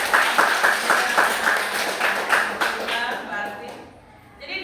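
An eighth-grade class applauds a classmate with quick, rhythmic clapping that fades out over a few seconds, a teacher's voice mixed in.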